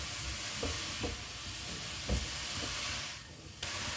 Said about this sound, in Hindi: अब हम इसको तकरीबन 2 से 3 मिनट इसको हम भून लेंगे।